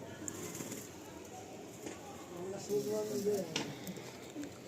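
A young Pilanka pigeon coos softly in short low calls over steady background hiss, with people talking nearby.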